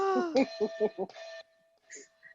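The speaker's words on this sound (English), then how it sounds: "There go the bell." A bell rings with a faint, thin sustained tone just after a stretch of talking, followed by a second short, higher ring.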